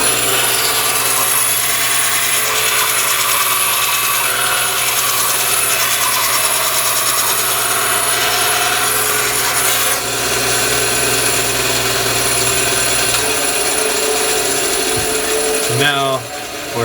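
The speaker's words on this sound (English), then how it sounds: "I use that as a guide as I'm beveling the corner." Foam shield corner being beveled, a steady loud rasping rub that runs almost continuously, easing off near the end.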